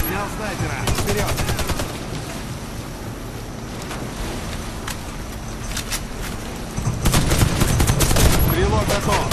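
A video game shootout: dense gunfire crackles in rapid bursts with whizzing bullets over a constant rushing backdrop, and the shots grow louder and thicker toward the end.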